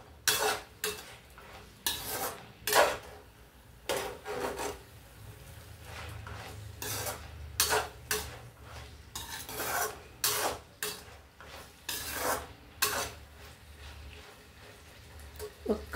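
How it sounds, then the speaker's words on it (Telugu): Sun-dried lentil dumplings tumble into a pan of brinjal and raw mango curry, followed by repeated scraping and clinking of a spoon against the pan in an irregular stirring rhythm with a faint sizzle underneath, close and alone. "నేను వడియాలు వేస్తానండి."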